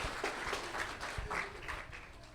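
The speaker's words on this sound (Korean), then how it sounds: "박수로 환영해 주시기 바랍니다." Church congregation applauding in welcome at a Sabbath service, a steady mid-level patter of many hands clapping with faint voices mixed in.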